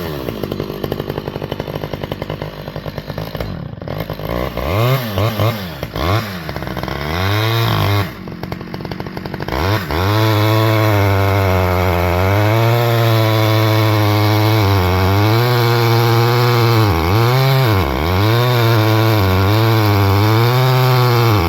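A Stihl 011AV chainsaw is pull-started cold, sputtering and catching, then revs loudly and bogs in repeated dips as it cuts wood, a close, continuous two-stroke whine.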